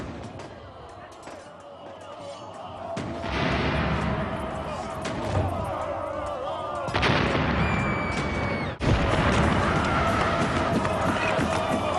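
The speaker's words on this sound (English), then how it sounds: "He aimed all his cannons at the same section of the wall." Cannons fire at city walls in a siege, with deep booms and crashing impacts over a continuous rumbling din, a sharp slam near the end, and narration running beneath.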